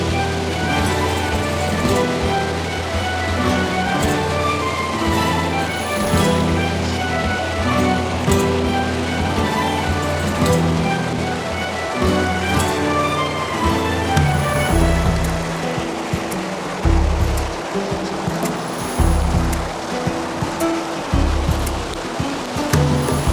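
Woodland river or brook flowing over stones near little footbridges and stepping stones, a steady broadband rush of moving water filling the whole stretch, close and continuous, with no speech.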